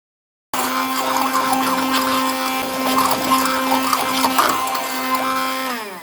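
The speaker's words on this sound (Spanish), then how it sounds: "Con la ayuda de un batidor de mano vamos a triturar todo lo que queda en nuestra salsa." A handheld immersion blender whirs steadily while pureeing a meat sauce, a loud continuous motor drone with a stable pitch that runs nearly six seconds after starting abruptly.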